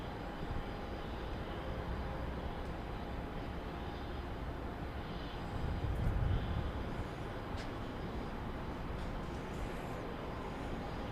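A Southwest airliner bound for Fort Lauderdale departs from Dallas Love Field, heard as a steady, broad engine roar at a distance that swells briefly midway, with no talk over it.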